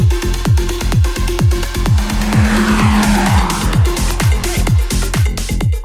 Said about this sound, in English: we're driving the Slavia on the racetrack